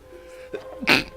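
A single sharp sneeze bursts out close by after a brief sharp intake of breath, loud and abrupt, during a casual tabletop game session.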